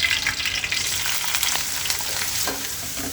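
Curry leaves fry in hot oil with a steady, close sizzle and crackle, faint stirring scrapes running beneath the hiss throughout.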